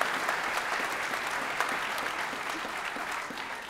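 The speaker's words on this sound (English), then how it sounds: "a round of applause" Audience at a state senator swearing-in ceremony claps steadily, a dense, even round of applause from a sizable crowd heard alone at moderate distance.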